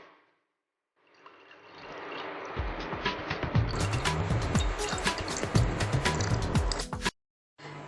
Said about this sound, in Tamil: இப்போ வந்து நான் அந்த பாதாம் எண்ணெய் சேர்க்க போகிறேன்